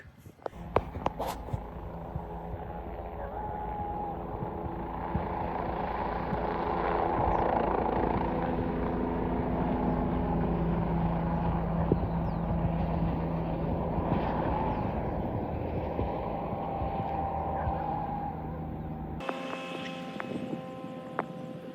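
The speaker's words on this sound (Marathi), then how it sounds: "फर्स्ट टाईम मी असं जमिनीवरनं वर लॉन्च होताना हेलिकॉप्टर बघितले" Helicopter lifting off from the ground, a loud continuous rotor roar and engine whine that holds steady for about twenty seconds before cutting off abruptly.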